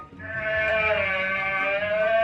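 An alpaca gives one sustained, steady, nasal humming cry lasting a couple of seconds, clear and alone, played as a sound to guess in a party game.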